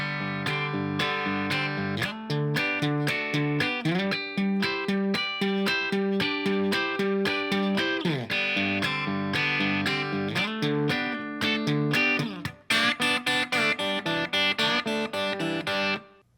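Electric guitar plays a busy, continuous honky-tonk lick, fast notes with bends and slides, loud and close, ending in a quick run of sharp notes.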